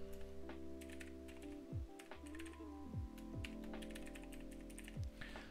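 Fingers typing on a computer keyboard produce quick, irregular bursts of close clicks, set against a steady tonal hum in the background.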